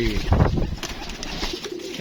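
Pigeons coo in a short, soft, low burst, followed by faint outdoor background noise.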